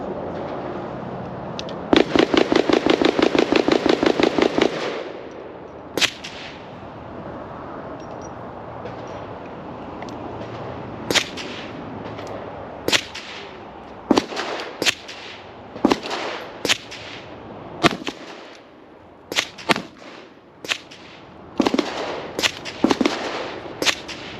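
Handguns, including a double-action revolver, fire at an outdoor shooting range. Early on comes a rapid buzzing rattle, then a long series of loud, sharp, close reports at irregular intervals, some in quick pairs.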